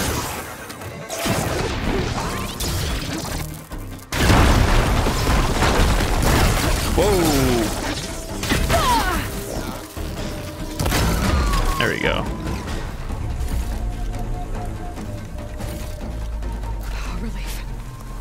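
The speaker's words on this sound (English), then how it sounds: "All those explosions, man." Repeated crashing booms and impacts from explosions in the video game Horizon Forbidden West, loud and dense, with a voice speaking intermittently over the chaotic blasts.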